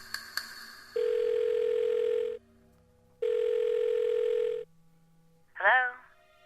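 In the Blackwell Deception video game, a phone dials with a few quick key beeps, then two long steady ringback tones separated by a pause, followed by a brief click as the call connects.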